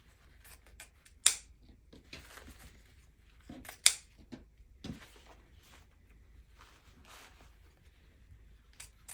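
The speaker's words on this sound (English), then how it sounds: "you can go in and you can snip off any of that extra ribbon" Scissors snipping off excess ribbon on a large mailbox bow, a few sharp crisp cuts standing out among soft rustling of ribbon and handling noises, close and fairly quiet.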